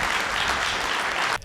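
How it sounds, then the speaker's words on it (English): A conference audience breaks into steady applause after a pavement-maintenance presentation, a dense sustained clapping that cuts off abruptly near the end. "let's give a hand of applause to David"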